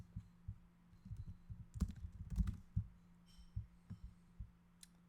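Fingers type on a computer keyboard, giving quiet, close, irregular clicks and key taps in short bursts over a faint steady hum.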